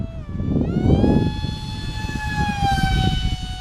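FT Vector RC airplane cruising at half throttle, a steady electric motor whine with rising and falling pitch harmonics over wind noise, moderately loud and continuous with no talk.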